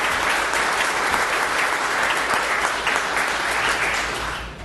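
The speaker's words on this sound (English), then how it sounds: "But give them a big round of applause." Sustained audience applause at a ribbon cutting ceremony for the Joplin ATTC, a steady dense wash of clapping that holds loud throughout and eases slightly at the end, with no talk over it.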